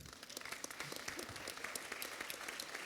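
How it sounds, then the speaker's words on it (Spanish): Audience at a panel discussion breaks into brief, fairly quiet applause, a dense patter of many hands clapping at moderate distance. "Bienvenida, un aplauso."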